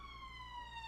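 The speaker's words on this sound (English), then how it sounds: "Sirens." A siren wails in The Walking Dead: Road to Survival, a loud electronic tone with stacked harmonics that slides slowly downward, heard briefly and on its own.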